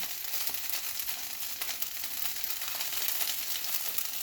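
Food frying in a pan gives a loud, close, continuous sizzle with scattered crackling splatter pops throughout, with no talking.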